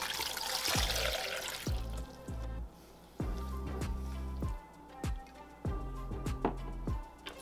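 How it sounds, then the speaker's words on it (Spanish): Water pours into a blender holding mango and sugar for homemade mango ice pops, splashing and trickling in uneven bursts with sharp droplet ticks, close and clear, no talking. "Enseguida le ponemos el agua y el azúcar."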